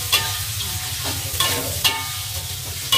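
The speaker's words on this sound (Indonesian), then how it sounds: "saya mau memasukkan kacangnya terlebih dahulu ya nih. Saya mau tumis bareng tempenya." Peanuts and tempeh stir-fried with wilted spice paste in a pan, giving a loud close sizzle punctuated by several sharp spatula scrapes in quick succession.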